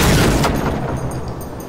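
Gunfire aimed at a robot in the video game Generation Zero, a dense loud burst of booming shots at the start that fades into a rumbling, echoing tail over under two seconds.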